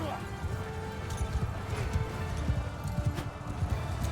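Horse hooves clip-clop in the video game Mount & Blade II Bannerlord, a rapid run of hoofbeats under a busy battle-field din.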